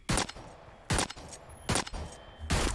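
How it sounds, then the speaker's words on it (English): Four loud revolver shots fire in the Hyper Scape video game, spaced roughly evenly about every 0.8 seconds, each a sharp crack with a short tail and no voices over them. "Looking at the revolver, pretty solid weapon, decent fire rate, decent damage out of the bat."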